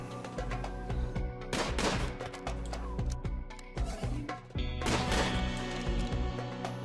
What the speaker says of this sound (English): Why are y'all shooting the one that's